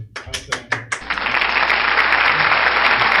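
Applause from a meeting audience after a guest speaker's presentation to a Rotary club. A few separate claps come first, then steady, dense clapping fills the rest. The clapping is fairly close and sounds like a small crowd.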